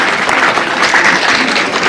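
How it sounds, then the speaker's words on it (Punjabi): Loud, continuous applause from an audience at a college show fills the whole stretch, with dense clapping and no voices standing out. "ਤਾੜੀ"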